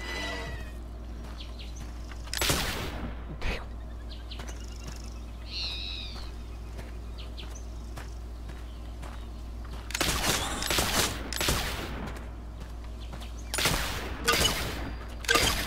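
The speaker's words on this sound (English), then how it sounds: "Shooting all over the place." Gunfire in The Oregon Trail (2022) game, a few sharp shots cracking out at scattered moments, including a tight cluster midway and more near the end, over a quiet outdoor ambience with faint bird calls.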